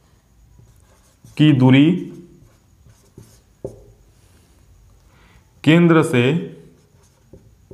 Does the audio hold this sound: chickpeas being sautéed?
no